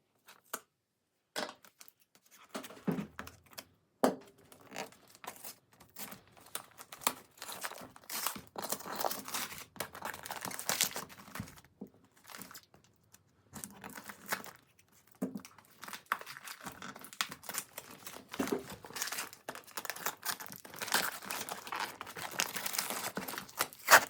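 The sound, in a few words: gift wrapping paper crinkling and tearing while unpacking a present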